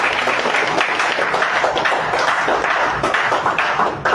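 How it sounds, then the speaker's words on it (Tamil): An audience at a public speech in Chennai breaks into sustained applause, a dense wash of many hands clapping at steady loudness throughout with no one speaking. "கைத்தட்டலாமே."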